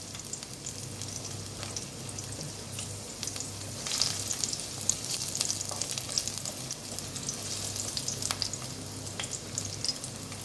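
Finely chopped garlic fries in hot oil in a wok, giving a continuous close sizzle broken by bursts of crackle as it is stirred, with no talking.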